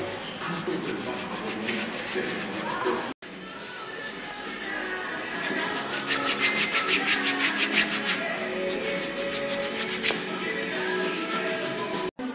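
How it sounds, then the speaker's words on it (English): Coarse salt scrub is rubbed over a foot during a five-dollar pedicure in Vilcabamba, Ecuador, a steady close scratching and rasping that continues with brief breaks. "now she's rubbing salt and sort of, uh, sort of abrasively cleaning the whole uh, foot"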